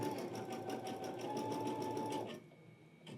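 Brother Skitch PP1 embroidery machine stitching a design, a steady close whirring buzz with rapid needle rhythm that slows and stops near the end, leaving quieter background.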